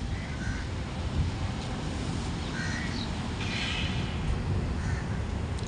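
Crows caw repeatedly outdoors, several harsh calls scattered across a steady rumble of wind and distant ambient noise.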